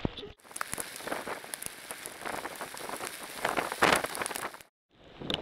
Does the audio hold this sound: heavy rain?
yes